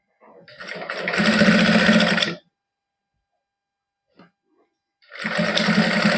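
A sewing machine stitches zari lace onto a party-wear suit, running in two loud sustained bursts separated by a quiet gap.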